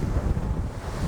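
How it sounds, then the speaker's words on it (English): Rough wind buffets the microphone on a small stone crabbing boat at sea, while ocean waves slosh and splash against the hull in a steady, churning roar with no one speaking. "when the waves are like this, I can't even, it's splashing me in the face"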